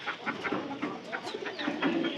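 Pigeons on a pigeon farm coo and murmur close by in a soft, continuous chorus of overlapping low calls, with no talking.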